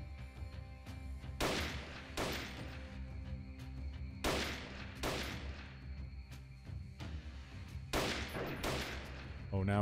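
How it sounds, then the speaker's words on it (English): An enemy fires in the video game Freeman: Guerrilla Warfare. Several sharp bursts of rapid gunshots crack out at intervals over a low rumbling background, loud and close. "Oh, now he's shooting."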